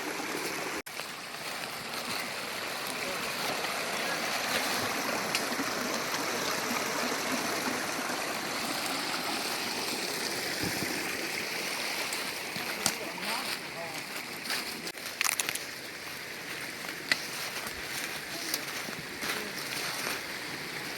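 A stream of water flows and trickles steadily into a sinkhole nearby, a constant rushing wash with occasional small splashes and knocks.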